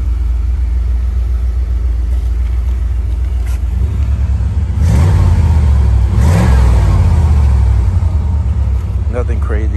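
A box-body Chevy car idling outdoors with a loud, steady rumble, then revving hard twice in quick bursts before settling back to idle.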